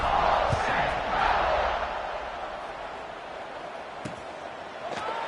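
A stadium crowd cheers in the College Football 26 video game after a scoring drive. The roar is loud and swelling at first, then eases to a steady murmur, with a few sharp thuds near the end.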